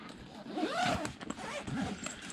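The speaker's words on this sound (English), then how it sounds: "let's zip this up." A zipper is drawn closed across a VRS ARK backpack, with a few quick rasping pulls close by and no voices.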